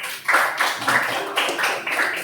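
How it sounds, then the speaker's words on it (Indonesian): A small audience at a teacher performance assessment session claps for a presenting group, a run of roughly six rhythmic bursts of hand claps, fairly close and moderately loud. "Tepuk tangan untuk kelompok 1."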